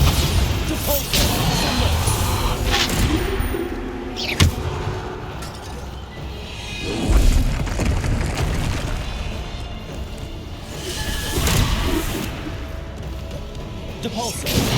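Repeated Bombarda exploding spell casts in the game Hogwarts Legacy, loud booming crashes and whooshes recurring every few seconds over dense continuous combat noise, with speech heard throughout.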